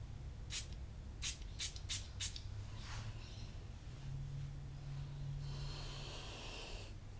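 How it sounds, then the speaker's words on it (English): Several short, sharp spray bursts of cologne onto skin in quick succession, close by, followed by a longer hissing spray and soft rustling. "Let's spray it on our skin, or my skin I should say."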